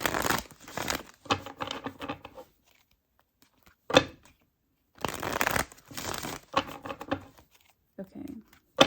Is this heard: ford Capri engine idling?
no